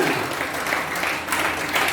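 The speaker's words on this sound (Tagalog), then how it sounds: "pumalakpak ng malakas sa ating Panginoon" A church congregation applauding loudly during a sermon, steady dense clapping from a large crowd that swells and continues throughout.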